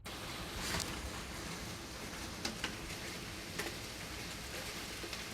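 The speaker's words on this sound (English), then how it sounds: "See if you can hear the outside cleansing" Steady hiss of rain falling outside, soft and continuous, with a few faint drips and ticks scattered through.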